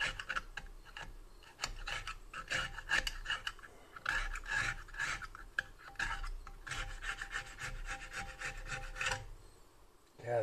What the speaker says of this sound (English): This side I'm a little more nervous to hit with the brass wheel.